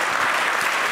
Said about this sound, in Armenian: Եկեք ծափարենք եւ ուղեկցենք